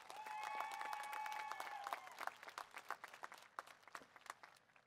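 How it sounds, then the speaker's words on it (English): Graduation audience clapping for educators at an alternative education ceremony in Riverside, a brief round of applause that quickly thins into scattered individual claps. "So let's give our educators a big round of applause as well."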